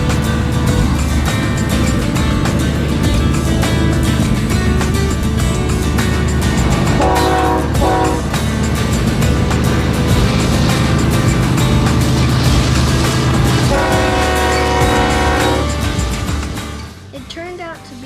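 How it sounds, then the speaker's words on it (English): A BNSF empty piggyback freight train pulled by three ES44DC locomotives approaches through Tehachapi Pass near Caliente, its loud continuous rumble carrying sustained horn blasts, with wind and a voice nearby, fading toward the end. "the sound of an approaching train in the distance"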